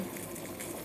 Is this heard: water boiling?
yes